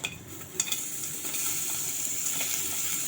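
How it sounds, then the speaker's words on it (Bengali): Onions fry with a steady sizzle for chicken curry while a spoon stirs and mashes them against the pan, giving a few clinks and scrapes early on over a continuous hiss. "চটকে চটকে দিচ্ছি আমরা পেঁয়াজগুলোকে"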